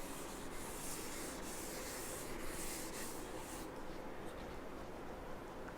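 A board eraser rubs out writing on a board, a steady scratchy rubbing that runs for several seconds close by, then eases off near the end, with no talk over it.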